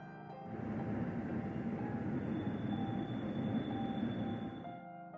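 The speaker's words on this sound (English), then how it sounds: "The sound of a train. Far off, getting closer." Distant train approaching as a sound effect in a horror story, a steady rumbling roll of wheels on rails with faint metallic squeals, fading in, holding, then easing off, with no voices.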